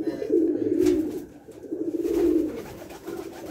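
Rajshahi Giribaj pigeons coo nearby in soft, low, rolling phrases, two swelling bursts with a fainter third, alone without talk.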